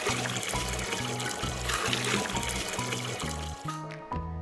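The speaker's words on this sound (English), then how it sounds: "Dilute the mixture before using it with water." Water poured into a molasses fertilizer mixture to dilute it, a steady close trickle and splash running continuously with no talking.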